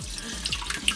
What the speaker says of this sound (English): Oh, why is water squirting?